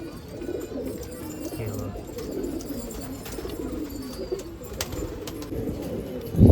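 Pigeons cooing steadily at a pigeon festival in Nashik, a soft continuous murmur of coos from several birds close by with a faint hubbub of background noise.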